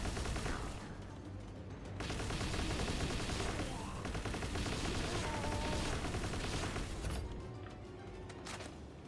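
Sustained video-game gunfire during an oil rig raid, dense rapid bursts of shots and crashing impacts running almost continuously, loud and close, easing briefly at the start and end.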